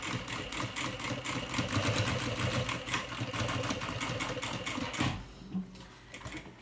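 A sewing machine stitches seams on a small thermal bag, a rapid, even mechanical chatter running continuously before stopping abruptly near the end, followed by a few quieter handling clicks.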